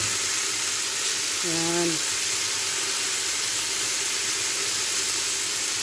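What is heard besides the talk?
sautéing beef and tomato for biryani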